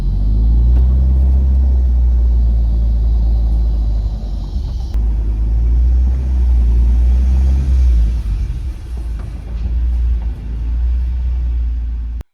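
A car fitted with 1000cc injectors and an anti-lag setup drives hard, its engine giving a loud, deep continuous rumble with shifting pitch as it accelerates and eases off.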